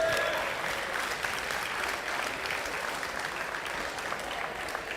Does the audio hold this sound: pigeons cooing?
no